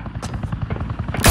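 A single loud gunshot bursts out at the very end in The Batman Telltale Series video game, right after a stretch of low, rumbling voices.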